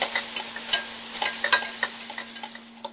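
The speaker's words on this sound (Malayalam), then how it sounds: "ഇനി ഇത് നല്ലപോലെ ഇളക്കി കൊടുക്കുക." Five large onions sliced lengthwise, frying in ghee and oil for chicken dum biryani and stirred well. Rhythmic scraping strokes over a continuous sizzle, close up, with a faint steady hum behind.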